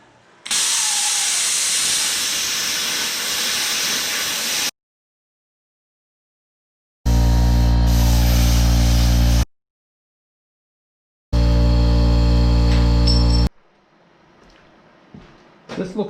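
Plasma cutter slicing through a steel welding table corner: a loud, steady hissing roar for several seconds, then separate bursts of electrical buzzing with silent gaps between them.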